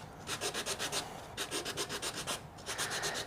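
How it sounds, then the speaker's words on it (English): Rapid, even rasping strokes rub back and forth across a 240-grit sanding stick in a steady rhythm, close up, with only short pauses between passes. "I just rub ever so slightly across the sanding stick"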